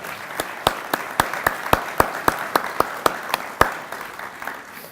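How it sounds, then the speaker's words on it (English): Audience applause at a RimFire natural resource summit, a crisp run of separate claps, moderately loud, that thins and fades toward the end. "Let's give her a round of applause."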